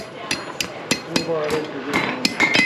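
At a forge, a hammer rings on metal against an anvil in a steady run of sharp, bright strikes, close and loud, with faint talk in the background.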